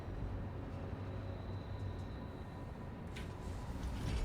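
Trains loading and unloading at a station in the Satisfactory video game: a steady low mechanical rumble with faint rattling, swelling slightly louder toward the end, no talking.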